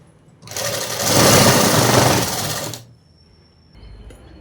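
A sewing machine stitches a seam on a cotton midi dress in one loud, fast whirring run of about two seconds, then stops, leaving faint handling noise close by.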